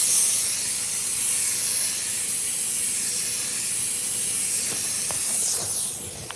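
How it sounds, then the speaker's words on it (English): Steady broad hiss from an air compressor on a farm, continuous and fairly loud throughout, with a few faint clicks and knocks near the end and no talking. "Go kill the air compressor before it decides to blow the valve off."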